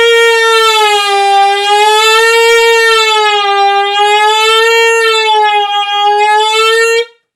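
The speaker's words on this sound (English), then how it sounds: "that's my pitch, and then I'm going to bend down from there" A tenor saxophone holds a steady, loud tone that slowly bends down and back up in smooth waves, sounding almost like a siren, with no talking, before stopping abruptly.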